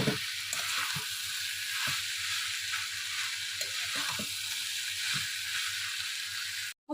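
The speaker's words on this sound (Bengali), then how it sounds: "আমি গ্যাসটা জোরে দিয়ে 2 মিনিট মতো বরবটি আর আলুটা ভালো করে ভেজে নিয়েছি।" Yardlong beans and potato pieces frying in oil over a high gas flame, a steady close sizzle with occasional scraping knocks of a spatula, no talking.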